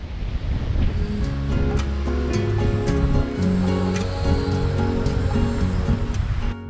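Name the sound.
Mediterranean sea waves on the Moroccan coast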